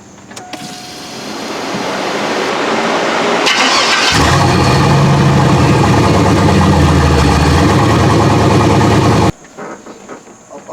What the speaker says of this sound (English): He's gonna crank it over, gonna see if it's pumping out water.